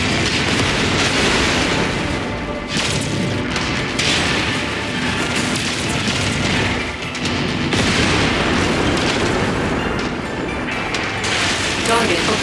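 A combat vehicle destroyed in the mech combat game MechWarrior 5, a loud, dense explosive roar with rumbling debris and mechanical clatter that continues for several seconds.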